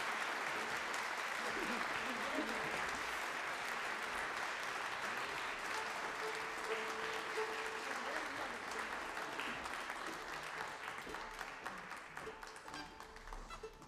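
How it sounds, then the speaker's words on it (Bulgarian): Sustained, dense audience applause fills a live Bulgarian folk music concert hall, holding steady for most of the stretch before gradually tapering off near the end, with no voices over it. "вашите аплодисменти"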